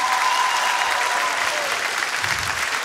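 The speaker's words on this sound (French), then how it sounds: "Si vous pouviez les applaudir et les encourager" An audience applauds the finalists at the song contest final of the 7th Jeux de la Francophonie, a dense, steady wash of clapping that holds at full strength for about three seconds.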